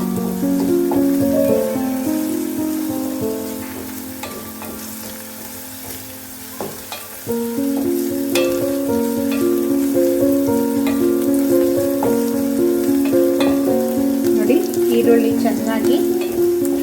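Onions fry in a pan for onion rasam, giving a steady sizzle that runs under prominent background music throughout.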